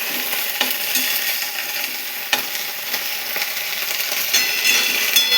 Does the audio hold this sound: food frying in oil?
yes